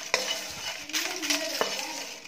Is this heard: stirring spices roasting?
yes